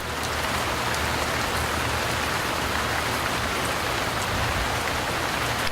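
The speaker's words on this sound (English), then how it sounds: "However, a great deal of rain can be dropped in a very short space of time." Heavy rain pouring steadily during a thunderstorm, a dense, constant hiss of drops on surfaces without pause or other sounds.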